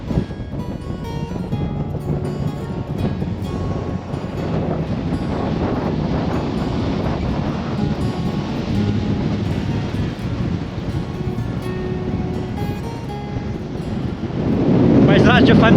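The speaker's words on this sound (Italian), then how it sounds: "Soffia tantissimo vento." Strong wind buffets the microphone in a constant roar, growing louder near the end, with a voice faintly heard under it.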